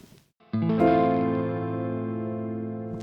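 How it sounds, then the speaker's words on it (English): A single minor chord with an added minor sixth, struck once after a brief quiet moment and left ringing, fading slowly over a few seconds with a warm, chorused guitar-like tone. "It's just a normal minor chord with a minor sixth added, but it sounds fantastic"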